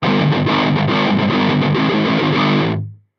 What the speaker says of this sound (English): adds a lot of hiss with that distortion having it up high